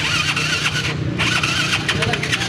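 A trail motorcycle engine cranks and catches, then revs in uneven surges, loud and close, with people talking over it outdoors at a gathering of trail bikes.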